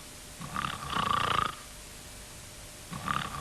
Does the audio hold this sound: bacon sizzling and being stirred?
no